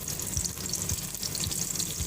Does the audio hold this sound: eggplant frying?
yes